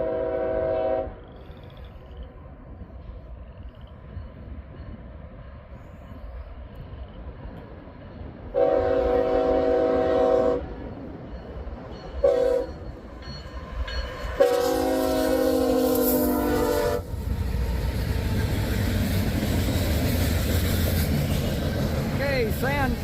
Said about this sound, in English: The train is just now crossing Wheeler Road down there.